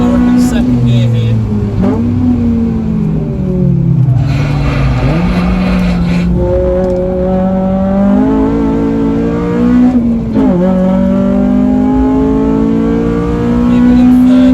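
A race car engine revs and shifts through the gears on the Snetterton race circuit, a loud continuous in-car drone that rises and falls with acceleration. A driver talks over the engine throughout.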